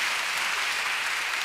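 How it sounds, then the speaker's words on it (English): A conference hall audience bursts into a short, dense round of applause. "Let's have a round of applause."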